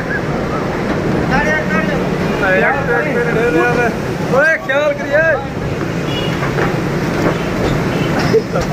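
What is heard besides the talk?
riding the Lahore metro bus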